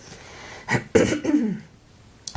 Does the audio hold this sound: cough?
yes